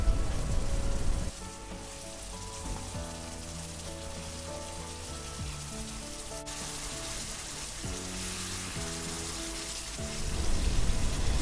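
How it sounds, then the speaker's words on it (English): Curry spice paste sizzles and crackles steadily in hot oil, a continuous close frying hiss with no talking. "As you can see, it's frying up nicely"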